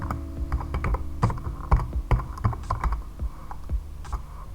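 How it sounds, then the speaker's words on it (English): Fingers typing a name on a computer keyboard, a close run of uneven plastic key clacks with a few harder strikes over a faint steady background hum. "I need to type in the name of my block"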